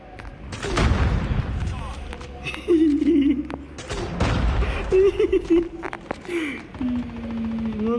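Gunfire in the mobile shooter game Call of Duty Mobile, repeated bursts and booms layered with game sound effects, fairly loud and continuous.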